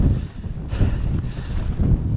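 Strong wind buffeting an exposed hillside tent pitch in the Peak District, a loud low rumbling roar of gusts on the microphone, steady throughout with surging peaks.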